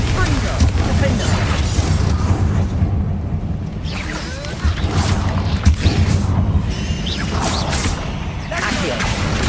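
Explosive Bombarda and Confringo spells are cast in Hogwarts Legacy, giving dense, continuous blasts, whooshes and crashing debris that fill the scene loudly from start to finish.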